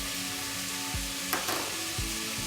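Meat and onion fry in a pot with a constant close sizzle, broken by a few soft stirring knocks and scrapes.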